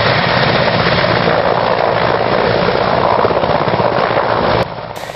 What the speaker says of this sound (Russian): вертолет МЧС России вылетел из Орловского района в Москву